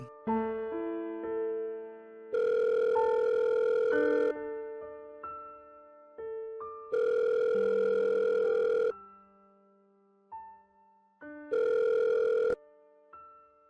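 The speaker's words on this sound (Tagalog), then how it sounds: "Agad kong tinawagan si Weng." A telephone line tone during a call in a Filipino radio-drama scene: three long, steady tone bursts with pauses between them, set over soft background music and with no talking.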